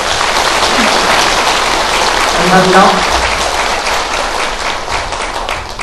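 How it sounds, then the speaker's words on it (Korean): An audience applauds a party representative at a Korean public briefing on compensation for Pacific War victims, steady dense clapping filling the room for several seconds while a voice briefly speaks over it. "다시 한번 우리 대표님에게 박수 한번 보내주십시오"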